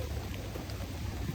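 Rain falling in a forest clearing during a downpour, heard as a steady, dense hiss of drops on foliage and surfaces with a faint low rumble underneath, continuous and moderately quiet with no voices.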